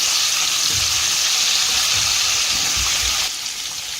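Drumsticks frying in hot oil with coriander powder give a dense, continuous close sizzle with faint low stirring bumps, easing slightly near the end, with no voices.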